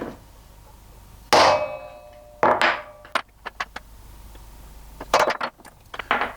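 Sharp metallic hammer strikes on a centre punch against a steel tube, coming in a few separate bursts: a single hit, a quick pair, then a cluster of ringing taps with short gaps of quiet between them.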